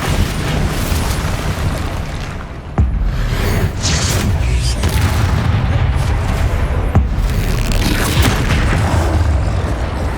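Bombarda blasting spell explosions in Hogwarts Legacy, a loud, continuous barrage of booms with sharp cracks landing every few seconds over a rumbling base.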